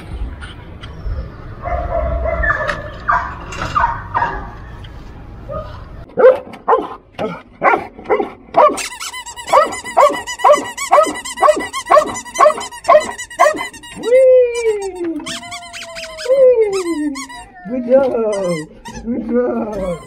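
A rescue dog at a Taiwanese fire brigade search-and-rescue training barks in a rapid run of loud, close, sharp yaps, followed by higher whining yelps, after some earlier talk.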